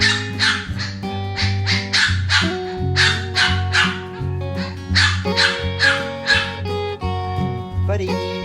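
A dog barks in repeated loud yips and bow-wows, close by and excited, with whimpering between bursts and a steady hum underneath.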